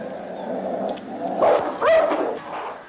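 Dogs in Bali squabble close by with sharp yelps and short whining barks in two quick bursts, over a steady outdoor background hum.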